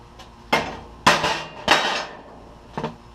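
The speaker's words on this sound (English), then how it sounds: "I've got a hammer right here. I know it's weak, but I'm going to put this in here and just try to break off like some of these end pieces" Hammer blows on metal end pieces clamped in a vise during a failed welding practice session: four sharp, loud metallic strikes spaced unevenly, the last two close together, with no talking.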